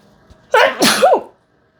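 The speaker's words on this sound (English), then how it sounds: "I feel like I'm still going to sneeze" A single close, loud sneeze, a sharp burst followed by a short voiced tail, then silence.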